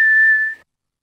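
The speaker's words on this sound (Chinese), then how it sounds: "我在吹口哨呢" A person whistles one steady, clear, high note in a Peppa Pig cartoon scene; the note holds for about half a second, then fades to silence, with no talking.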